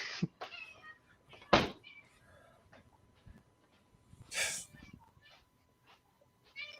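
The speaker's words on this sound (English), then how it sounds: "so my cats are about to go off too. They want their dinner" Pet cats meowing for their dinner, several separate calls spread out over a quiet indoor room, some loud and close, with faint bumps and handling noises between them.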